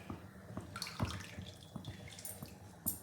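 Water is poured into a pot while cooking sweet pongal at home for the Pongal festival, a soft steady splashing with a few clinks of vessels, fairly quiet and close.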